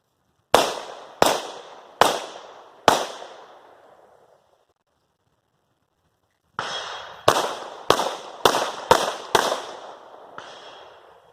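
Gunfire at a live-fire shooting drill outdoors, two volleys of sharp, loud shots: four evenly spaced cracks, a pause, then a faster string of six or seven with ringing echo tails.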